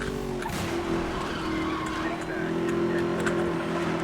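A Bugatti Veyron Super Sport accelerates in the racing game Need for Speed: Most Wanted (2012), its steady engine whine rising and holding under light tire squeal throughout, loud and close, with a faint voice underneath.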